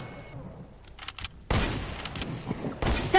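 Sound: gunfire from a gun in the video game Fortnite

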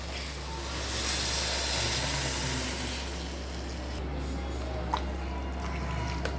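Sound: tamarind water being poured into dried prawn curry

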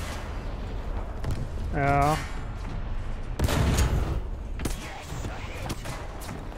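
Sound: enemy gunfire in video game War Thunder

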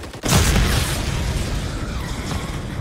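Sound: grenade explosion in video game Modern Warfare 3

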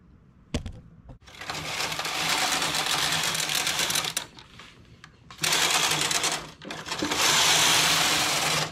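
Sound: knitting machine carriage knitting jacquard fabric

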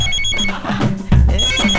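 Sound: telephone ringing

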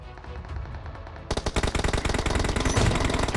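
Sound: sniper rifle gunfire in video game PUBG Mobile

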